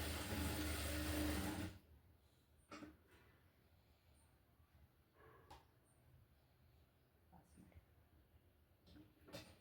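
A sewing machine stitches a petticoat in a close, loud whirring burst that stops abruptly, leaving a quiet room with faint clicks and fabric handling.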